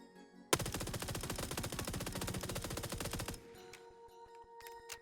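A pistol fitted with a vertical grip fires in PUBG: a long, rapid, evenly spaced string of loud shots for about three seconds, then quieter scattered clicks and distant pops.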